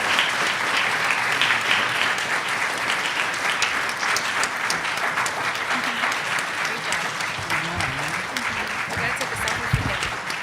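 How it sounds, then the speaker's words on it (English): Sustained audience applause for two speakers, State Attorney Marilyn Mosley and Rontel Beatty, at a Congressional Black Caucus legislative conference panel, a dense steady roar of clapping filling the room for the whole stretch with some voices mixed in. "a big round of applause."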